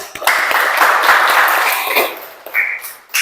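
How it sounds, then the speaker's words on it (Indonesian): Children in a morning classroom lesson break into brief, lively clapping, loud and close, which thins out and ends in a few scattered claps. "Tepuk tangan untuk diri sendiri."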